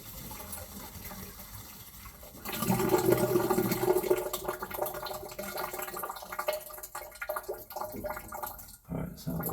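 Water drains from an Aspen air handler's condensate line into a bucket after the integral flow check is removed, a gurgling, splashing pour that swells suddenly and then keeps trickling unevenly, close by.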